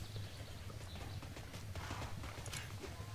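Rhythmic clip-clop of a horse mount's hooves in the online game Tera, a steady trotting beat over a dense, continuous game soundscape with no talk.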